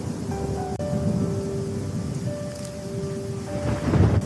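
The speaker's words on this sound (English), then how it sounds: "The storm is getting stronger." A cartoon thunderstorm with steady rain hissing over low rumbling thunder, holding even throughout and building slightly near the end, with a faint tonal hum underneath and no speech.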